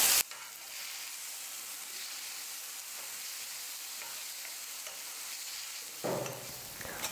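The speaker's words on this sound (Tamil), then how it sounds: "ஸ்டவ்வை லோ ஃப்ளேமில் வச்சுக்கிட்டு ஒரு 2 நிமிஷத்துக்கு நம்ம சட்னியை வதக்கிக்கலாம்." Garlic chutney sautés in a pan over a low flame, a steady soft sizzle with scraping stir strokes at the start and again near the end, no voices.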